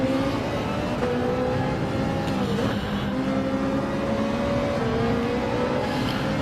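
Race cars in a Gran Turismo online qualifier race of the Manufacturers Cup, engines droning steadily and loud with shifting pitch as cars are caught up in rain, a continuous layered roar with no talk.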